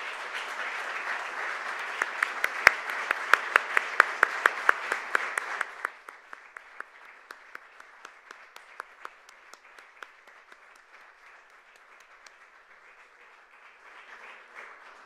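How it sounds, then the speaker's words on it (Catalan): An audience applauds as Suzuki method music students file in at a UNESCO Day commemoration. The clapping starts as dense, loud applause, then thins after a few seconds into sparse, scattered claps that continue quietly until the end. "Estan entrant, per tant els aplaudirem mentre van entrant."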